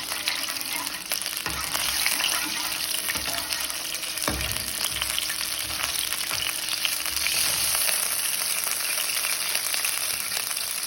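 Garlic-ginger paste sizzles steadily in hot ghee, a continuous crackling hiss with occasional stirring clatter, close and moderately loud.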